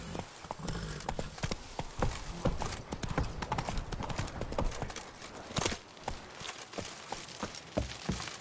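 Roach the horse galloping in The Witcher 3 video game, rapid rhythmic clip-clop of hooves on the ground, close and steady, with a faint voice now and then under the hoofbeats.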